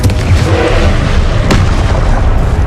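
A Confringo blasting spell explodes in the wizarding game Hogwarts Legacy, a loud, sustained booming blast with a sharp crack near the middle, no voices over it.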